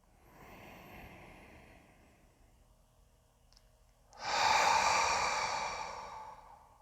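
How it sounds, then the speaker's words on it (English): During a yoga class, a long, soft breath is drawn in, followed after a pause by a loud, rushing exhale through the mouth, close and with no talk. "Take a big breath in. And again, exhale out of your mouth"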